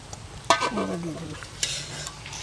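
Green chilies frying in oil in a pan hiss with a soft sizzle while a metal spatula scrapes and stirs them, with a sharp clack of utensil on pan and a few quieter scrapes afterward.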